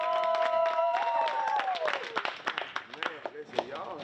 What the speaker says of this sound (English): Clap your hands for Miss Linda for putting this together.